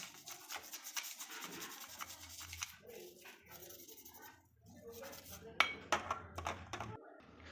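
A gas burner being scrubbed clean with a brush and scrubber: quiet, uneven rubbing and scraping strokes with occasional metallic clinks, and a voice talking faintly in the background.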